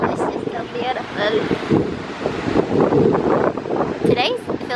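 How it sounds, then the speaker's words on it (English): Wind buffets the microphone in steady gusts at Universal Studios Orlando, with low rumbling noise throughout and faint voices in the background. "It's kinda warm but windy. It's been pretty windy."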